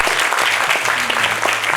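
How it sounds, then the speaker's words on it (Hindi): An audience at a university competition applauds a young girl singer with loud, dense clapping that holds steady from start to finish, while a faint voice or tone sits low beneath it. "भरपूर ताली होनी चाहिए इसके लिए।"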